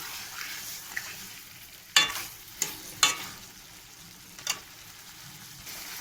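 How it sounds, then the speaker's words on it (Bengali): Fish masala frying in a pan while being stirred: a continuous close sizzle broken by four sharp scraping clacks of the spatula against the pan, with no talking. "এই পিটে পিট করে কিছুক্ষণ আমি নেড়ে চেড়ে দেওয়া হবে।"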